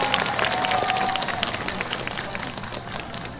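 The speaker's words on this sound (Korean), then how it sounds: "시민 여러분 동의하시면 큰 격려 박수 부탁드립니다." A crowd applauds at an outdoor election campaign rally in Uijeongbu, South Korea, a dense, steady roar of clapping from many people, fairly loud and slowly tapering off.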